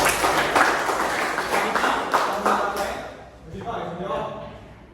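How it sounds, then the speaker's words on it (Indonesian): Audience clapping at a safety talk about life jackets and evacuation, a steady wash of applause that thins after a few seconds, with voices talking through it. "Tepuk tangan buat teman-teman."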